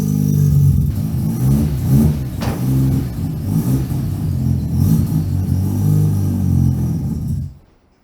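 A Mazda RX-7 rotary engine with no idle system revs loudly and continuously, rising and falling in pitch with a rough, buzzy rumble, then stalls abruptly near the end.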